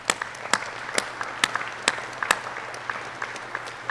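Audience applause at a USAF UHT Class 25-06 graduation ceremony: a steady run of sharp hand claps from a room of people, moderately loud and close, with no talk over it.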